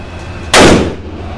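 A single sharp, loud gunshot from a .460 S&W Magnum revolver at an outdoor shooting range, with a sudden blast that fades over about half a second.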